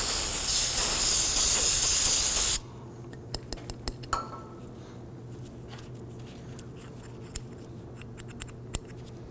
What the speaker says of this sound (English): spray it down, clean it.